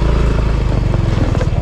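An automatic motorcycle rides along a rough road, its engine a steady close drone with irregular clattering bumps and rattles throughout.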